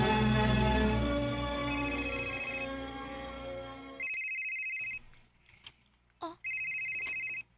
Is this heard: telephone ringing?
yes